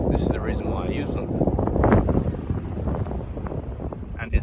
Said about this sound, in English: very windy the moment I opened the rune bag.